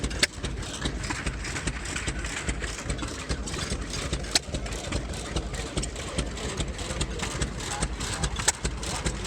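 A 1907 Sager 3 horsepower stationary engine from Lansing, Michigan, running steadily at an outdoor flywheel engine show, with a continuous low chugging hum and faint periodic ticks over the whole stretch, and no talk.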